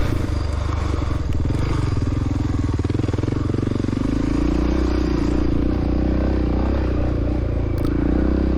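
A 1993 Honda XR600R motorcycle climbs a hill through trees at an Whiskey River cross-country race, its big single-cylinder engine droning loud and steady and close, with rhythmic pulsing and some clatter throughout.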